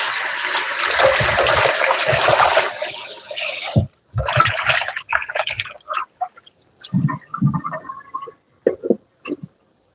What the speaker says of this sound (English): I'm going to wash my tomatoes.